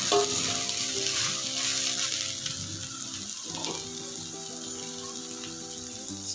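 Ridge gourd peel and green chilli frying in a pan for chutney, a continuous close sizzle with bubbling and stirring throughout.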